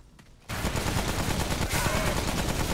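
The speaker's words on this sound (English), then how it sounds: "I'm getting shot at from like the side." Sustained automatic gunfire during a boss fight in the video game Remnant, starting abruptly after a quiet moment and continuing as a dense, loud, rapid rattle to the end.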